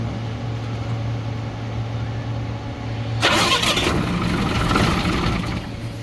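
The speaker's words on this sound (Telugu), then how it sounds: "సరే బండి స్టార్ట్ చేయి" A motorbike engine cranks and catches after fitting work, jumping from a low steady hum into a loud, rough running roar about halfway through, close by with no voices.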